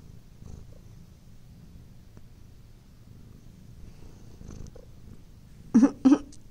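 A house cat purring softly and steadily close by, a low continuous rumble that runs throughout, with two brief louder vocal sounds near the end.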